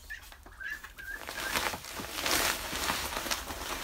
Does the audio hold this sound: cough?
no